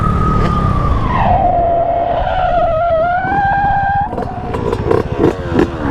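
A Honda Grom motorcycle rides on pavement, its tires squealing in a long, loud tonal skid that slides down in pitch and then holds steady. Engine rumble runs underneath, and a few sharp bursts come near the end.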